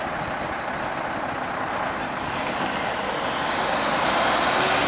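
A UPS triple-trailer truck passes on a road with a steady, broad engine and tire roar that swells slightly toward the end, heard from outdoors without any talk.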